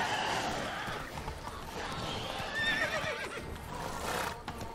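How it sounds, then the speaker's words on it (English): A horse in The Witcher 3 video game whinnies as it jumps, a high neigh rising over a dense wash of game ambience and rustling, with hoof sounds faintly mixed in and no talk. "The glitchy Roach jump, we did it"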